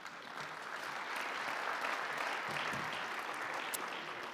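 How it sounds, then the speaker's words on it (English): Audience at a tech conference gives steady, sustained applause, a dense even wash of clapping heard at a moderate distance with no talking over it. "You can give him some applause"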